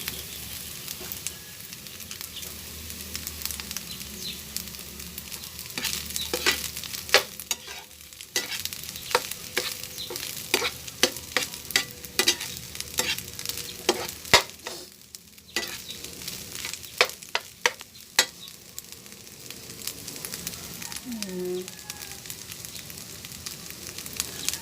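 Rice is stirred and scraped in a sizzling pan of margarine, with a steady fry hiss and repeated sharp clacks of a utensil against the pan.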